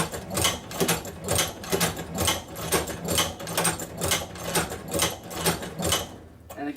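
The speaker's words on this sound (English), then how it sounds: "And then again, we'll continue sewing." Leather stitched on a sewing machine, a steady mechanical run of evenly spaced needle strokes, rhythmic and close, stopping near the end, with no talking.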